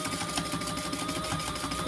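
Sewing machine running fast and steady, stitching down the side of a clutch evening bag, a close, even mechanical whir with rapid rhythmic needle pulses throughout.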